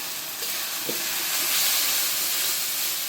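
Chili powder and turmeric fry in oil in a pan with a steady loud sizzle and hiss, and a couple of faint stirring knocks come through early on.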